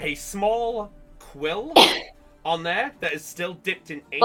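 A single sharp sneeze bursts out midway through steady speech from a narrator describing a scene, brief and close, with the talking resuming right after.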